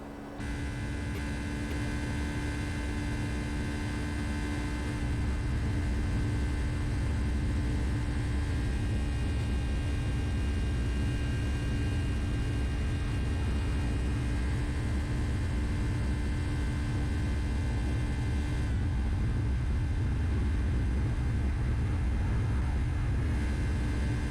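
A Boeing 757 takes off in the X-Plane 12 flight simulator, a steady loud roar of jet engines with a constant tonal hum holding for the whole stretch and no voices over it.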